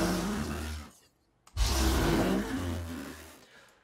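Monster creature roar built from layered balloon, didgeridoo and plunger recordings, two deep growling bursts with a short silent gap between, loud and close, no talk.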